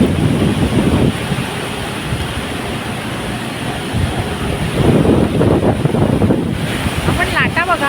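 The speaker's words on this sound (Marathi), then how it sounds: "आपण लाटा बघाव्यात सुंदर." Sea waves roll onto Juhu beach at dawn, a steady surging wash with swells building and breaking, heavily buffeted by wind noise on the microphone.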